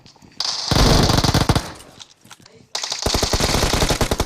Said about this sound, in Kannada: ಇಲ್ಲಿ ಮಿಷಿನ್ ಗನ್ ಬಿಡ್ತಾನಂತೆ ಬಾ.